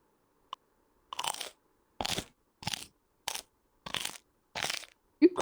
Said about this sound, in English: You crunching it like that.